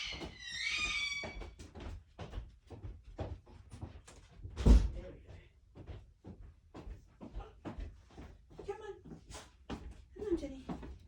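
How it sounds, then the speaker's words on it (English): A door is pushed shut indoors with a single soft thud partway through, amid household noise and people talking, while cockatoos screech outside. "I'm just going to go and close the door."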